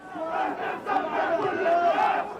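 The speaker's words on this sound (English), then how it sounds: "The centre of Ramallah was brought to a standstill by relatively modest crowds demonstrating against events in Gaza." Crowds demonstrating in central Ramallah against events in Gaza, a dense mass of raised voices and chanting cries swelling in waves, steady and fairly loud throughout.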